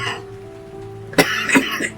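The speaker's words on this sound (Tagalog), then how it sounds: "Naubo ka. Tagal na ng ubo mo no." A person coughs with a lingering, long-running cough, giving a few close, sharp hacking bursts near the end that follow a softer stretch of background noise.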